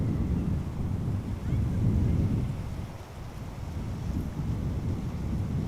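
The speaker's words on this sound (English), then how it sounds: "That's the wind now, and a different angle of the camera versus the wind." Wind buffets an outdoor camera at Amsterdam Schiphol Airport, a loud low rumbling roar that surges and eases, dipping briefly midway before rising again.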